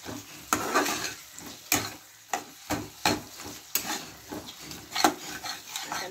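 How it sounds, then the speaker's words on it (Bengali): Tomatoes stirred in a frying pan for an egg pulao, a spatula scraping in repeated rhythmic strokes about every half second over a low sizzle, close and clear, no voices. "টমেটোটা যতক্ষণ না কাঁচা গন্ধটা যাচ্ছে, ততক্ষণ আমাকে নেড়ে যেতে হবে।"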